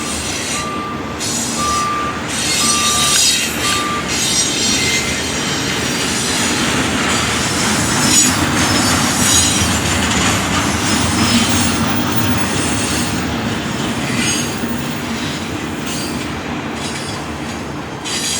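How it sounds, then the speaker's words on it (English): A long freight train rumbles past up close in Arizona, steady roar of wheels on rails with clacking and occasional squeals, plus a few short beeps early on. "Trains really do go across the country."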